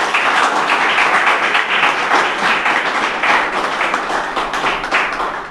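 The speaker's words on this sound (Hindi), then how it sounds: "तालियाँ बजाइए" A crowd claps steadily and loudly for several seconds, dense applause with no voices standing out.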